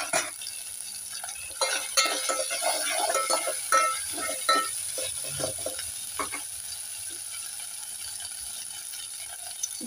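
Large onions with green chillies and ginger paste fry in a pan for a bandakaya pulusu, a steady sizzle with scraping stirs and clinks in the middle stretch, no talking.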